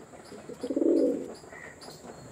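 A pigeon gives a single soft, low coo nearby in a quiet setting, with faint chirps in the background.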